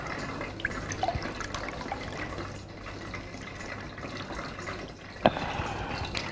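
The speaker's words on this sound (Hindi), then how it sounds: "इसमें से जो डिप हुए हैं इसको प्रेस करना है और सारा पानी स्क्वीज़ करके निकाल लेना है।" Soaked lentil dumplings for dahi vada are pressed by hand to squeeze out water, giving continuous wet dripping and trickling in a kitchen, with a couple of sharper splashes.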